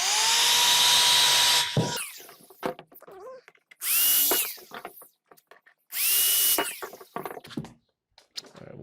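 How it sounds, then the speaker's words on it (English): A cordless power drill bores holes in a plastic trash can. Three separate loud, close bursts of whirring motor, each rising sharply in pitch, are broken by quiet gaps filled with shuffling and handling noises. "Once we finish drilling the holes in our trash bin"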